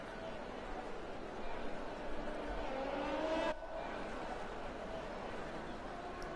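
Racing cars in a Formula-style video game race on the Vietnam street circuit, out on the out lap: a steady engine drone climbs in pitch, then cuts off abruptly partway through and leaves a quieter hum.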